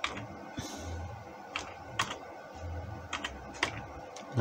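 A command is typed on a computer keyboard, with irregular clusters of crisp key clicks over a few seconds and a quiet background hum.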